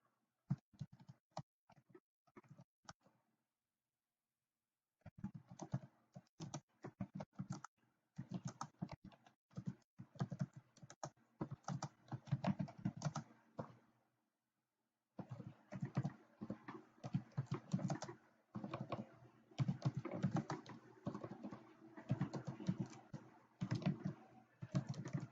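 Steady typing on a computer keyboard, clattering keystrokes in fast irregular runs broken by two silent pauses, close and fairly quiet, with no voices.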